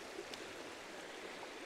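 An icy river flows in a steady, soft, continuous rush of water heard from nearby with no talking.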